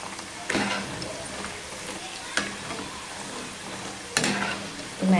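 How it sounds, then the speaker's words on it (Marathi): Shankarpali frying in hot oil over medium heat, a steady close sizzle with a few louder bursts as pieces are stirred, under a woman's speech. "अशा पद्धतीने तळून घ्यायच्या आणि मीडियम हीटवरच ना कलर चेंज होईपर्यंत तळायचे."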